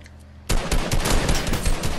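Rapid close-range automatic gunfire in Fortnite, starting abruptly after a quiet moment and continuing as a loud, dense burst to the end.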